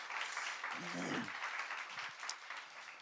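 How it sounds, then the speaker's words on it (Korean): A church congregation applauding the worship team, quiet, steady clapping from a crowd lasting about three seconds, with a short voice sounding briefly beneath it. "오늘도 영감이 넘치는 찬양을 섬겨주신 우리 찬양팀에게 격려의 박수 부탁드립니다"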